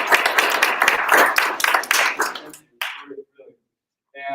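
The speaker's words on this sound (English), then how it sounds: "Can we give Kenny a round of applause?" Audience applause at a community talk on making Flagstaff bikeable and walkable, a dense burst of clapping that fades out after about two and a half seconds, followed by a few scattered claps and a voice.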